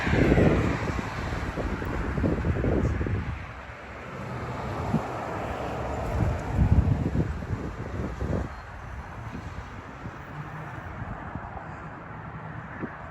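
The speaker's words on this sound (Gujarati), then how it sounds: "પવન એ બહુ છે જોરદાર" Strong wind blows outdoors on a freezing, snowy night in a Manchester neighbourhood, roaring and buffeting the microphone in uneven gusts that swell and ease throughout.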